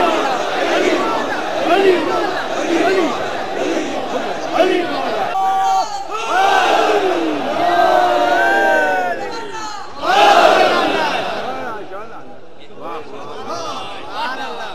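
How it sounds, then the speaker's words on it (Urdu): A large crowd at a religious majlis gathering shouting slogans together in loud, rhythmic bursts, many voices rising and falling in unison, then fading out toward the end. "ایک دفعہ سب مل کے بولو."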